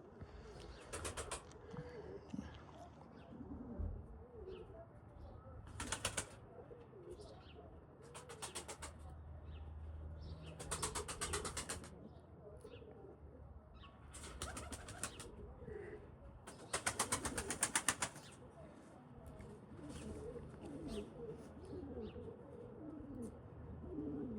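Pigeons in a loft on a hot day give soft, steady cooing throughout, with several loud bursts of wing flapping recurring every few seconds.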